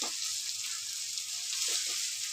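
Leftover rice tossed into a hot pan for phodnicha bhat, giving a steady, bright, close sizzle throughout, with a couple of soft stirring scrapes near the end.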